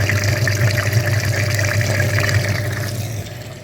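Flushing liquid through the heater radiator of a Toyota Land Cruiser 200 makes a continuous rushing, gurgling flow with a low pump hum that eases toward the end.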